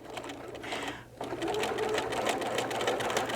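Sewing machine stitching over cording on a small fabric gift card holder: a close, steady mechanical whir that pauses briefly and then resumes at an even pace.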